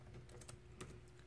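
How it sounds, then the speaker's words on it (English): Keys on a school Chromebook keyboard tap in a few soft, uneven clicks, faint and close, under a low steady hum. "I'm right now gonna type it."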